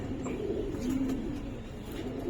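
Giribaz and coloured pigeons coo softly in a few low, rolling calls. The cooing is close and fairly quiet, with no other sound around it.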